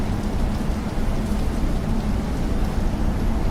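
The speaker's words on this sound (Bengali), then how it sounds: "আর শুরু হলো প্রবল বৃষ্টি।" Heavy rain falls in a dense, continuous roar of drops beating on a surface, loud and even throughout with no pauses.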